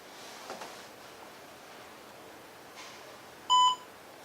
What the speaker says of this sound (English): we had the audio alert of the beep